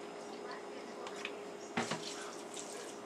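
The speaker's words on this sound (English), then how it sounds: "I'm going to start with like half a cup" Vinegar poured into a measuring cup in a home kitchen, a soft steady liquid trickle with a brief louder splash partway through, fairly faint.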